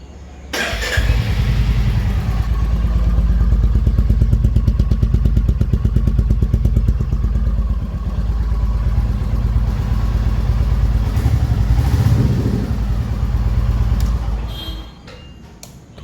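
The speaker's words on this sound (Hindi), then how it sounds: "यहाँ से आप इंजन को स्टार्ट करेंगे" A 2025 Royal Enfield Meteor 350 motorcycle engine starts up and settles into a steady, loud, throbbing idle close by, then cuts off near the end.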